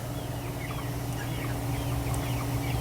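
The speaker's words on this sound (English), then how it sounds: "these are chickens. Don't they look so cute?" Farm chickens, both meat and egg birds, clucking and calling in a coop or barn, several soft overlapping calls over a steady, noisy background hum, with no talking.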